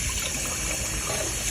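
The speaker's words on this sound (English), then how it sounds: "I feel like the rice is more flakier when you wash it really well." Rice being rinsed in a bowl of water, giving a soft, close, continuous swishing and trickling for a brief moment with no talk.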